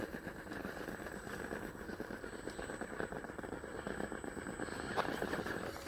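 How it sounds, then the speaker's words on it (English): Element RC Enduro Sendero RC truck tires gripping and crawling over a rocky trail, a steady close crackling, rattling texture with small scrapes and clicks running throughout, no talking. "you can really hear those tires grip"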